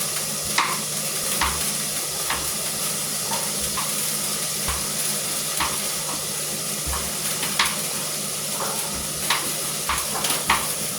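Salted fish fries in a pan with a loud, continuous sizzling hiss, broken by sharp spatter pops and utensil taps at irregular intervals, with no talking.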